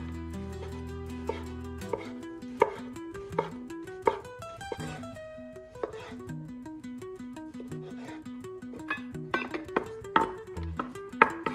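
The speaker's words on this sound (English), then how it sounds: "Cut the linguiça or Spanish chorizo into 1/4 to half-inch rounds." A knife chops linguiça sausage into rounds on a board, a steady series of crisp close taps alone in a quiet kitchen.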